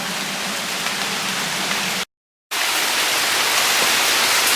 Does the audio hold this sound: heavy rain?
yes